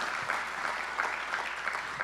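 Audience applause at a live event, a steady wash of clapping that holds at a moderate, distant level for the full stretch with no breaks.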